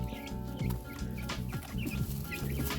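Young chicks on their first time outside cluck and peep repeatedly while feeding, a busy, close chorus of short calls with no talking.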